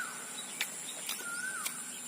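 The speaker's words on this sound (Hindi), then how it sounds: "पीछे कोयल की आवाज" An Asian koel calls faintly in the background outdoors, brief rising whistled notes over a steady hum of insects and ambient noise.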